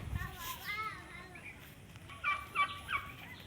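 A pair of newly bought turkeys gobble in several short, close bursts, with voices talking in the background.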